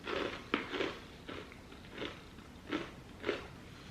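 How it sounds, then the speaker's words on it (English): Someone chews a mouthful of peanut chocolate muesli with flakes and granola, producing close, crunchy bites and grinding in an irregular rhythm, with sharp crackles spaced through the few seconds. "There's a lot to chew."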